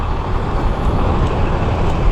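A bus pulls in amid steady, dense road traffic on a village-to-Mumbai route, with a continuous low rumble of heavy engines and passing vehicles and no clear break in the noise.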